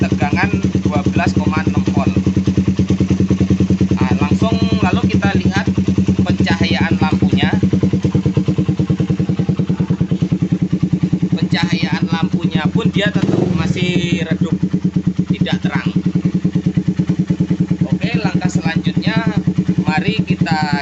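Suzuki Satria FU motorcycle engine running steadily at a close idle throughout, its even hum continuing under someone talking for most of the stretch.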